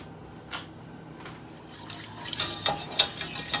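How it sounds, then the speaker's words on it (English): A whisk clinking against a metal pot as melted peanut butter and coconut oil are stirred together, starting with a couple of faint taps and building into quicker, brighter scraping clinks near the end. "I'm just kind of whisking those two together, and it's liquidy"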